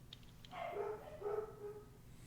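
Dogs barking as they chase each other, two quick muffled barks about half a second apart, fairly faint and a little distant, with no one talking.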